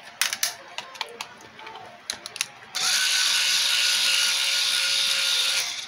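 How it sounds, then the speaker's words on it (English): Screws being removed from an Asus RTX 2080 Ti graphics card: a scatter of small clicks and ticks, then a steady, close whir of an electric screwdriver running. "We'll remove all these screws."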